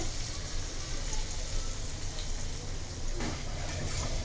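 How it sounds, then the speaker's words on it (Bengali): Onions tossed into hot oil left from frying dried fish give a steady, dense sizzle that continues without a break, close and even in loudness. "এই তেলের ভিতরেই পেঁয়াজ দিয়ে দেওয়া হচ্ছে"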